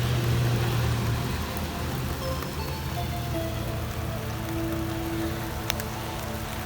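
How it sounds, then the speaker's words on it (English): Rain falling steadily outdoors on Hatteras Island, a constant broadband hiss with no breaks, joined by a low rumble that could be a distant engine. "Even in the rain?"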